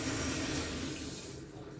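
Water runs steadily from a tap in an English house, a continuous broadband rush close by that eases slightly toward the end, with no talking.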